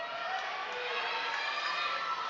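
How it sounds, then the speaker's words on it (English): Spectators at a provincial lead and top rope climbing finals cheer and shout in a steady, distant crowd roar that fills the whole short stretch without a break. "Crowd's getting into it."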